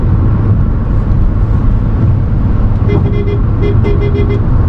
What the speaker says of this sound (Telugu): Horn decent enough.